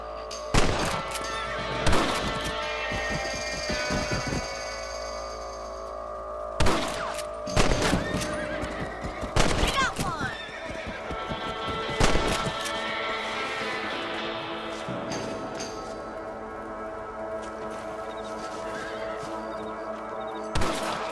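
Horses in the Red Dead Redemption video game whinny and snort repeatedly, with hoofbeats clip-clopping and occasional sharp thuds between the calls, fairly close and loud over a musical game backdrop.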